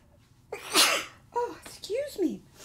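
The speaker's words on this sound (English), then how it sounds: "Oh, I think I'm gonna sneeze." A woman gives a single close, sharp sneeze preceded by a short inhale, followed by brief breathy vocal sounds.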